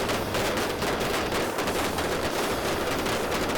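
Prop guns fire a dense, continuous barrage on a film set for a shootout scene, the rapid blasts merging into a loud, unbroken roar throughout with no talking.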